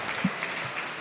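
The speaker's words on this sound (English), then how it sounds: "Big applause to them." Brief, moderately faint applause from a conference audience at a summit stage event, a steady wash of clapping throughout the short moment.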